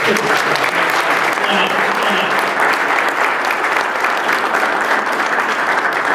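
Sustained audience applause fills a campaign kickoff event at a hotel ballroom, steady and dense throughout with no voices over it.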